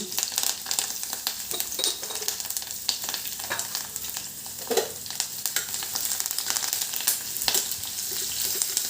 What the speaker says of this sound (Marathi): त्यामध्ये आपल्याला जिरं मोहरी घालायची कढीपत्ता लसूण